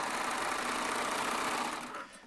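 A Baby Lock Triumph serger runs at a steady, fast mechanical whir for about two seconds, then winds down and fades as it stops.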